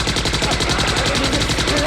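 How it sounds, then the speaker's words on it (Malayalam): Rapid automatic gunfire from an action film, a loud continuous burst of evenly spaced shots with no pauses, dense and close throughout. "ഒരു തോക്കം കൊണ്ട് റോക്കി ബായ് പോലെ എല്ലാവരും വെടിവെച്ചു കൊല്ലും."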